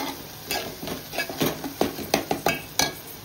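Garam masala and Agri masala sautéed in a pan for vatanachi bhaji, heard as a series of close, sharp scrapes and clinks of a spoon stirring against metal, irregular in rhythm, with no talking.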